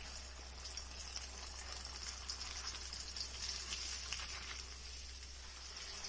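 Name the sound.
salmon deep frying in oil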